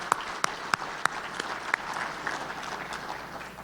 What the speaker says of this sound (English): let's give her a round of applause in her absence